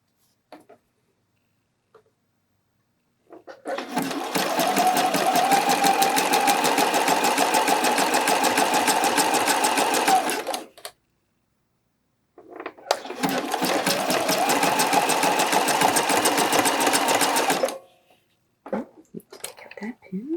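A sewing machine stitches along the picot edge of a bralette in two steady runs of about seven and five seconds, with a short pause between them. The whirring is close and even, and no one talks over it.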